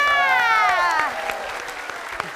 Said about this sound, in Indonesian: kita kasih tepuk tangan untuk seluruh peserta kita